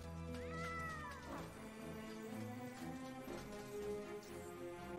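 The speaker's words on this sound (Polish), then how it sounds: "Musimy teraz uważać na koty, ponieważ tutaj dużo kotów chodzi." A cat meows several times in the MediEvil video game on PS4, clear rising-and-falling calls over a steady droning musical background.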